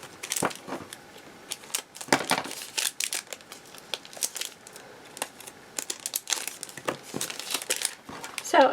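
Plastic packaging crinkling and crackling as a holiday sketch supply box is unwrapped, in irregular sharp bursts, close and fairly loud, with some tearing rustles.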